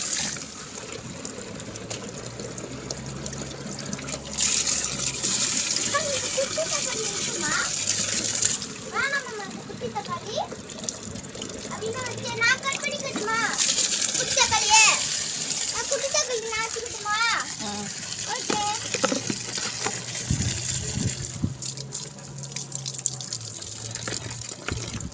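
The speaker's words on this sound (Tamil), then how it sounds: "எல்லா செடிக்கும் கொஞ்சம் கொஞ்சமாக தண்ணி ஊற்றுறேன்." Garden plants being watered a little at a time, with water pouring and gushing steadily, close by, while a child and an adult talk over it throughout.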